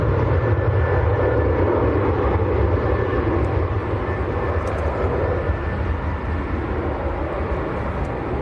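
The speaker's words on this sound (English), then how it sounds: "Look at this, very nice Challenger lining up right in front of us." A Challenger business jet lines up on the runway at Manchester Airport, a steady broadband engine roar close by that holds level throughout with no voices over it.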